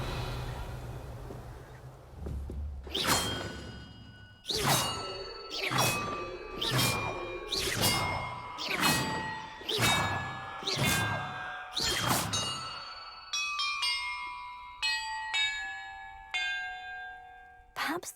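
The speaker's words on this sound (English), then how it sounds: "Perhaps the map contains clues about the order I'm supposed to ring the bells in." Bells are rung in the Hogwarts Legacy video game: a series of loud, evenly spaced clanging strikes with long ringing tails, then a quicker run of lighter, higher chimes.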